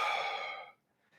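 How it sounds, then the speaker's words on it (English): A deep breathy exhale during a reformer Pilates workout, one close, soft release of air fading out within a second, followed by a faint trailing breath. "Big inhale. Let it out."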